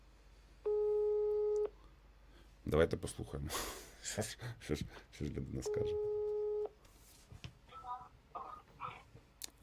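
Two long ringback tones sound over a phone line, separated by a pause in which a person speaks and laughs nearby.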